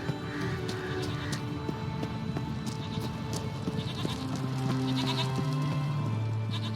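Goats bleat among rocky platforming ledges in The Witcher 3, their wavering calls rising over a steady bed of in-game ambience for several seconds, with no voices present.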